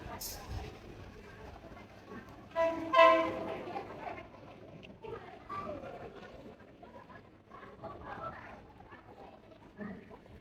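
A Maeklong Railway train passing through a crowded station, with a brief horn blast early on, rumbling and clattering underneath, mixed with people talking nearby.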